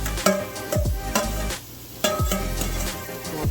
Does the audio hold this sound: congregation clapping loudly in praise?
no